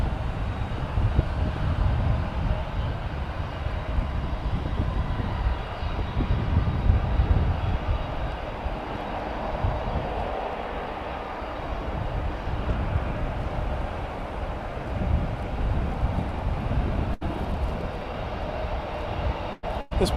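An aircraft on the runway at DFW airport gives a loud, sustained engine roar with deep rumble, heard steadily and with no voices.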